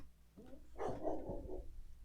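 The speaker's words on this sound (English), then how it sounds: "there's a dog in the background just barking at people" A dog barks in the background, a short burst of a few barks under a low hum, fairly loud and unaccompanied by speech.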